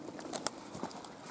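Crows call in a wooded gorge at Lud's Church, a few short, faint caws scattered over quiet outdoor background.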